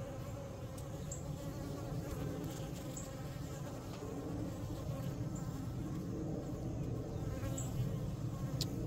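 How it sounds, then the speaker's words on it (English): Honeybees buzz steadily around an open hive during a beekeeping inspection, a continuous close drone with faint bright ticks scattered through it. "some bees right here on the bottom, all clustered, festooning"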